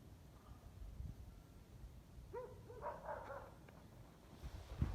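A dog barks a few times at a moderate distance, short yips standing out over quiet outdoor background.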